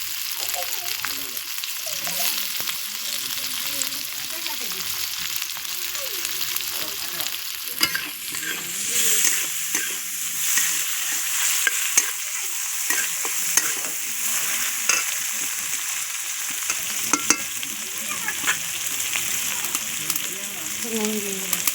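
Tomatoes frying in hot oil for a fish curry, with a steady close sizzle under repeated stirring and scraping in the pan, plus an occasional clink and quiet voices.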